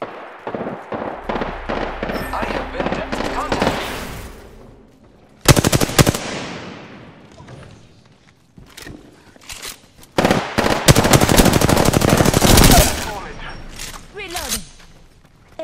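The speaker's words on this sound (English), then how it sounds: "I am taking fire, friends." Automatic and burst gunfire in the battle royale shooter Apex Legends, loud and dense in several volleys separated by short lulls, with game voice lines and speech mixed in.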